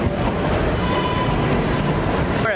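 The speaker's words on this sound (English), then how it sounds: "We're on the second train now." A passenger train on the second leg of a New York trip rumbles steadily along the rails, with a continuous loud roar, clattering wheels and a faint squeal near the end, and no voices.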